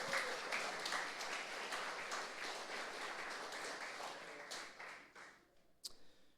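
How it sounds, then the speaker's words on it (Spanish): A church congregation claps for the Lord during a Spanish-language service, faint, many-handed applause with a loose pulsing rhythm that thins out and fades toward the end, leaving a few scattered claps. "Démosle palmas al Señor si están llenos del Espíritu Santo"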